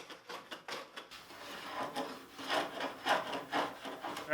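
A hand plane smooths the boards of a basic wooden workbench, making quiet, rhythmic rasping strokes that repeat several times at close range.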